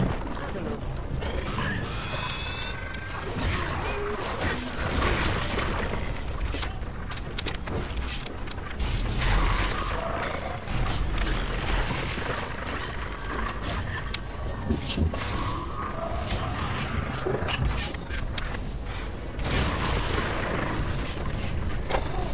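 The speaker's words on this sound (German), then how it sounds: "Hört sich an, als wäre da vorne das Übliche los. Explosionen und gründliches Zerstörungswerk." Explosions and destruction in the video game Hunted: The Demon's Forge, heard as a dense, loud, continuous roar of booms, creaks and grinding mechanical crashes.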